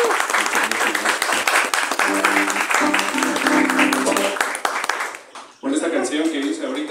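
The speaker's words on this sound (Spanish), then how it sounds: "Un aplauso para el personal del body" A concert audience at the Bodhi venue in Mexico City claps for the venue staff, steady close applause with voices over it that cuts off briefly near the end and then resumes.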